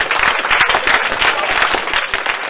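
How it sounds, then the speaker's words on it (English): A talk audience gives a lively round of applause, brisk and continuous clapping at close range with no voices over it. "you all need a big round of applause"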